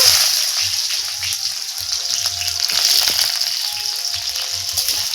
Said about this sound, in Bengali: এখন আমি পেঁয়াজ আর কালো জিরে শুকনো লঙ্কা একসাথে লাল করে ভেজে নিব